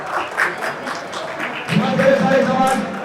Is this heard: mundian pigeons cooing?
no